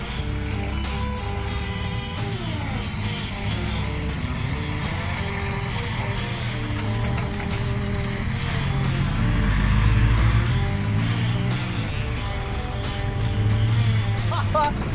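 A 4x4 grinds through deep, nasty mud holes and puddles across paddocks at Levuka 4x4 Park, its engine droning steadily and loud throughout while people talk over it.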